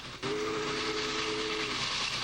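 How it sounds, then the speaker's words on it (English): A steam locomotive whistle sounds a single sustained blast with steady harmonic tones over a hissing background. It is loud and close and carries on for about a second and a half. "the same pressure made the engine's whistle blow"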